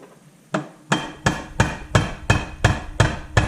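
Hammer blows tap a bearing out of a Honda CB125E motorcycle engine housing during a rebuild, nine sharp metallic knocks at a steady, even rhythm, close and loud.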